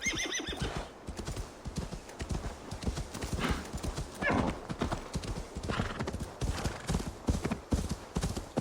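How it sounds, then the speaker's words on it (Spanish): A horse gallops with steady, quick hoofbeats and lets out a whinny in the Assassin's Creed Valhalla video game, close and clear, with a voice briefly over the hooves. "el caballito no quiere saltar"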